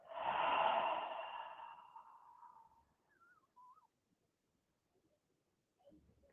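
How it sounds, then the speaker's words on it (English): A deep exhale during a yoga core exercise, a long breathy rush of air fading out over a couple of seconds, followed by quiet with faint small sounds. "And deep breath out."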